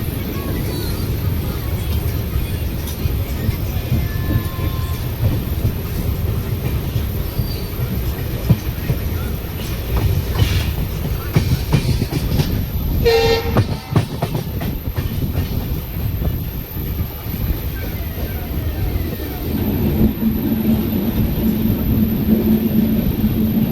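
A passenger train pulls out of Sabarmati junction, a seven-platform station, with a steady loud rumble of wheels on rails, rattling carriages and occasional clicks and brief squeals, heard from on board throughout.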